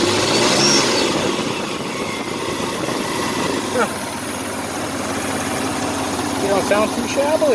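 A car engine idles steadily after repair work, with a small exhaust leak and cleaned mass airflow sensor, a close continuous rumble running throughout while someone talks briefly over it.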